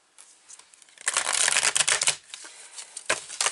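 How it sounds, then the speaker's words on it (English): Cards from a Wisdom Keeper's Oracle deck being shuffled and drawn, a rapid riffling flutter building to a dense burst, then softer slides and a final quick flick, close and alone. "So let's take a card from here."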